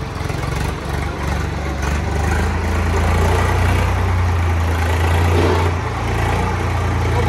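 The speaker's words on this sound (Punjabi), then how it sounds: "ਆ ਗਿਆ ਜੀ ਅਰਜੁਨ ਟਰੈਕਟਰ ਆ ਗਿਆ" Arjun tractor engine running steadily while spreading soil in a plot, a loud continuous low diesel rumble with no break throughout.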